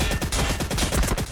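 Gatling gun fire in a Warhammer 40,000 video game battle between Astra Militarum and Orks, a rapid continuous burst of rattling shots lasting just over a second.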